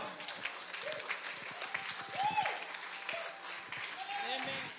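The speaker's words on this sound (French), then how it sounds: "Est-ce qu'on peut acclamer bien Can pour we Dieu? clap for the Lord?" A church congregation breaks into clapping, a dense, steady patter of many hands that swells slightly midway, with voices calling out over it.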